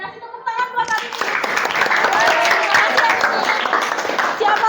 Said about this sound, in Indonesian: Kasih tepuk tangan buat hari ini.